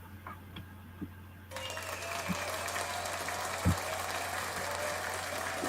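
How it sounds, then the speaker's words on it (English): Quiet applause starts after a second and a half and continues steadily as a soft, distant patter under a low hum, with a few faint knocks. "Round of applause."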